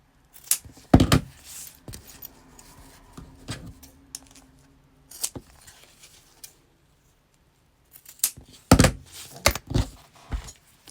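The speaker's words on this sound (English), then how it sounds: "now we are just going to cut off those edges" Scissors snipping off fabric edges while sewing a makeup zipper bag, giving sharp, close clicks and cuts in irregular bursts with pauses between, loudest in a dense cluster toward the end.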